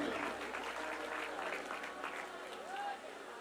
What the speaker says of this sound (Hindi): फिर ताली बजाओ दीदी लोग के लिए